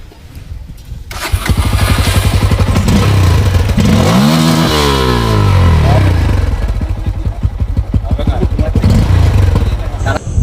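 Bajaj Pulsar NS 160 motorcycle fitted with a homemade silencer, its engine firing up after a quiet start and then running loud with a rough, rapid exhaust beat, revving up and falling back, with some voices and clatter around it.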